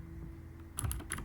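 A few quick keystrokes tapped on a computer keyboard while writing Python code, close and fairly quiet, clustered near the end over a low steady hum.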